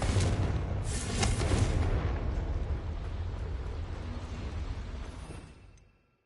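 A Confringo fire-blast spell explodes in a Harry Potter video game, a single deep booming burst with a rumbling tail that fades out to silence over several seconds.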